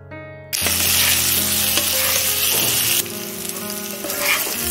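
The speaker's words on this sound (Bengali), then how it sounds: "তারপর আমি মশলাটা দিয়ে সমস্তটাই একবার ভালোভাবে কষিয়ে নেব।" Potatoes sautéed with spices for dahi kofta burst into a loud, close sizzle after a brief quiet start. The hiss holds steady, with occasional stirring scrapes and no talking.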